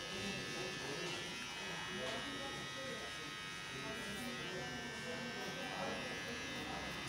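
A Yuma electric shaver buzzes steadily up close as it shaves a beard, a constant faint motor hum running the whole time with no breaks.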